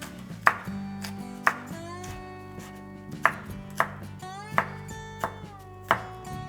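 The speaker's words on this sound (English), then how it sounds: "So we'll use both the white bits and the green parts. Just thinly slicing it." A knife thinly slicing spring onion, white and green parts, on a cutting board, with about eight crisp, close chopping thuds at an uneven pace and no talking.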